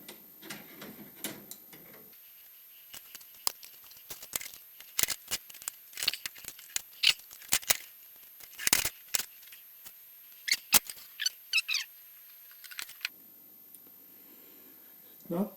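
Cutting a Volvo 460 radiator in half: a long run of sharp, irregular clicking and snipping sounds, loud and close, some in quick bursts, with soft rustling at the start and end and no talk.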